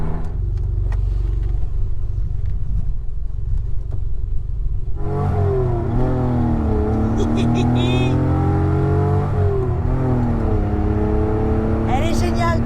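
An Alpine A310 V6 sports car idles with a low rumble, then its engine revs up while driving, its pitch rising and falling through several pulls, loud and close, with voices talking over parts of it.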